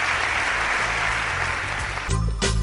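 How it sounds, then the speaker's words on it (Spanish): A studio audience claps steadily for a guest, a dense continuous applause that swells briefly near the end. "Pido un aplauso para él."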